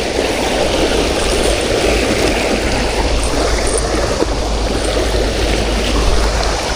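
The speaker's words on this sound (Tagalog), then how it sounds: "Huwag tayo dyan sa malakas na agos." A strong river current rushes steadily beneath a roadway, producing a loud, continuous broadband roar of flowing water close by with no voices.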